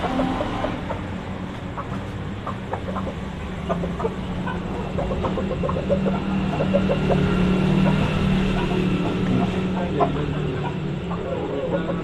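Old-bloodline Aseel breeder pair of chickens, with soft clucks and fowl calls scattered over steady background noise while someone talks nearby.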